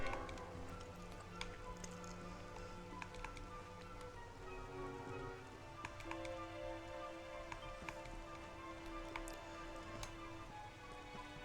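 Steady rain patter with scattered ticking drops in the video game Dragon Quest XI, during a mountain climb, over a background of synthetic music and ambient tones.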